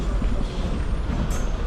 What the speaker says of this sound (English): Buses.